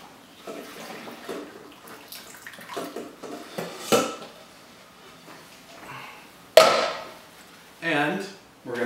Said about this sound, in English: we're going to carefully drain the excess water,